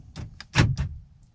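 Power door locks on a Ford 6.0L Powerstroke truck clack in a quick series of four sharp mechanical thumps, close and moderately loud, with no talking.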